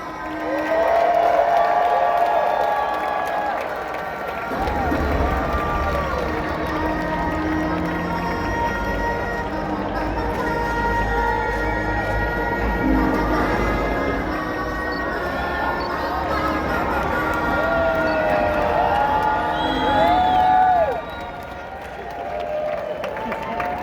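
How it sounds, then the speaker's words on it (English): Sustained applause and cheering from a crowd at a live jousting show on a summer evening, a steady wash of clapping and voices that swells and carries on for over twenty seconds, with a broadband rumble underneath. "how about a nice round of applause for TJ Duquette?"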